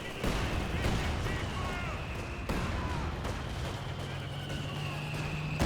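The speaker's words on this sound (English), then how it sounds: "AVRE firing" An AVRE tank fires in the Company of Heroes 2 video game, sending heavy booming blasts through constant battle noise while a commentator talks over the action.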